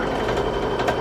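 A sewing machine stitches quilt sashing onto a block, a steady close mechanical whir with a faint rhythmic knock running throughout without pause.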